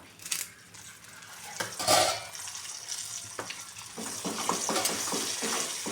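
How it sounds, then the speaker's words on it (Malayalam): Curry leaves dropped into hot oil for a liver fry, bursting into a loud crackling sizzle with clinks of a metal utensil against the pan, close by and without voices. "ഇനി ആ എണ്ണയിലേക്ക് നമുക്ക് പിന്നെ കുറച്ച് കറിവേപ്പില ഇട്ട് കൊടുക്കാം"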